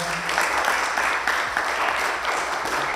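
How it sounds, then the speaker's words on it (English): Steady audience applause at Romanza Fest 2021, a dense wash of clapping that holds at an even level throughout with no pauses, with faint voices mixed under it. "So give him a nice round of applause as you have."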